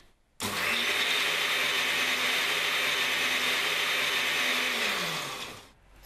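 A blender whizzes fruit until smooth and creamy, a loud steady motor whine starting abruptly and running about five seconds before slowing and cutting out, with no talking.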